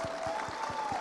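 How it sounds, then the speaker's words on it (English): An audience applauds at a stage event honouring a doctor, producing a steady, loud wash of clapping that fills the whole brief moment, with a faint sustained tone underneath. "A bigger round of applause."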